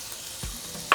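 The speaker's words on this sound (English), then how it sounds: "so once oil gets hot, we're going to throw in sliced onions" Sliced onions meet hot oil in a pan on high heat, a faint sizzle with a soft thud and a brief sharp hiss at the end.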